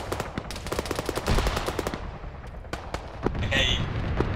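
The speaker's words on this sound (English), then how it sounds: "That autocannon's gone crazy from the town." Rapid autocannon and gunfire in a video game crackle in dense bursts of sharp shots, loud and close at first, then sparser, scattered reports as the firing thins out.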